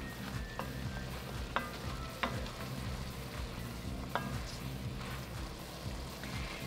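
Garlic and mushrooms frying in oil in a stew pot for beef bourguignon, a soft continuous sizzle broken by a few sharp utensil clicks and scrapes as the mix is stirred, fairly faint and without talk.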